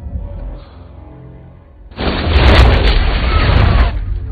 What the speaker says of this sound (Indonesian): Rykov kemudian meledakkan rompinya